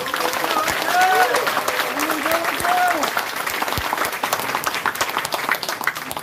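A crowd of party members at a district rally claps loudly and steadily for Jang Kyung-tae, with occasional cheers and a voice calling over the dense, continuous applause.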